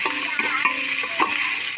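Tomatoes sautéing in a pan with the chilies, a close, steady sizzle punctuated by rhythmic stirring scrapes and taps roughly every half second.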